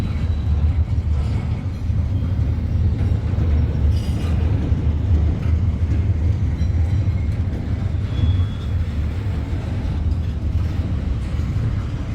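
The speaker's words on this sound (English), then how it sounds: "so yeah, it was just a long train" A continuous heavy rumble of a long CSX intermodal freight train rolling past, steady and loud throughout with faint metallic squeals and clatter over the deep drone.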